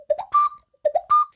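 An ocarina plays the opening notes of a song, a short three-note rising phrase played twice. The tones are clear, soft and close, with brief gaps between the phrases.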